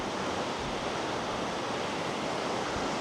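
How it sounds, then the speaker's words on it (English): The Madison River rushes below Earthquake Lake in a constant, dense wash of flowing water, loud and even throughout with no voices. "This is the Madison River coming out of that"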